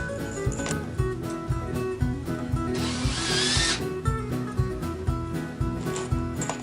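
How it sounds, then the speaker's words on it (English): A power drill drives screws into the wood of a homemade growing trough, with steady repeated whirring bursts and a louder high-pitched screw run near the middle, close and continuous. "What I'm going to do is go ahead and just start the screws in it."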